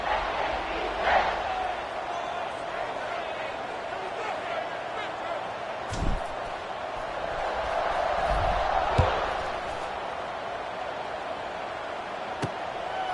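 A football stadium crowd roars before kickoff at a Georgia State vs Memphis game, a broad sustained cheer with sharp thumps and swells, heard from a distance.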